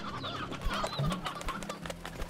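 Chickens cluck in the video game Slime Rancher, several soft bird calls scattered across a steady backdrop of game ambience, moderately quiet and with no talk.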